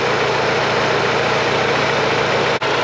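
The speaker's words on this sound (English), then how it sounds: "You guys notice about the engine noise?" A boosted Subaru G23BK engine idles steadily at close range, giving a loud, even low rumble that is broken by one brief dropout near the end.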